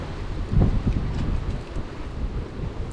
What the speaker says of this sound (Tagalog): Yan medyo mahangin mga kabisig ng panahon.